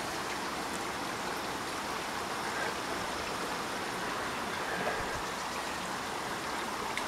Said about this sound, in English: Water's draining all the roots there. It's recirculating back to the big tanks.